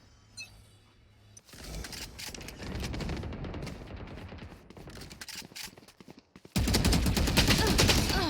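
Rapid sprayed gunfire from a Valorant video game match, dense bursts of shots rattling on and off before a loud sustained stretch of fire at the end.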